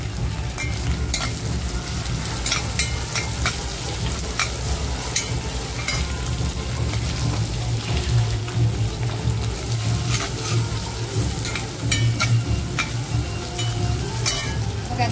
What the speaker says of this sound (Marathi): कांदा बघा, जो बारीक चिरून घेतला होता तो टाकते.